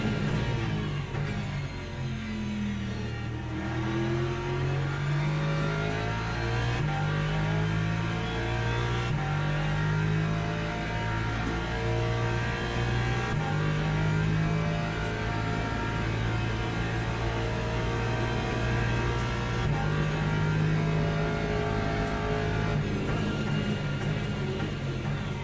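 BMW race car engine in the iRacing sim, revving steadily and loud throughout with rising and falling pitch as it shifts through gears, a continuous close engine drone with no talking.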